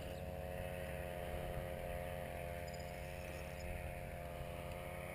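Paramotor engine on a training flight at an aerodrome, running steadily at low throttle with a continuous buzzing drone, fairly distant and unchanging throughout, without speech.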